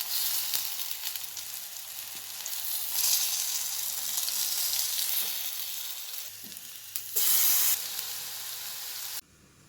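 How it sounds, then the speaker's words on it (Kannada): Curry leaves spitting and sizzling in a tablespoon of hot oil for a Kerala-style brinjal curry, a dense continuous crackle with a few louder bursts of hiss near the end. "ಹಾಗೆ ಕರ್ಬೇವಿನ ಸೊಪ್ಪು, ಕರಿ ಲೀವ್ ಹಾಕಿದ್ದೀನಿ."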